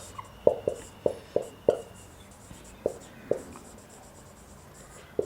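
Chalk or marker strokes on a classroom board during a live physics lesson, a quick run of sharp taps and scrapes followed by a few more spaced-out strokes, fairly close, with no talking.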